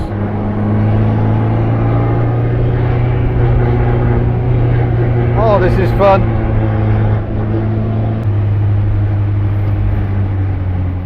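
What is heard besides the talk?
1959 MGA Twin Cam engine while driving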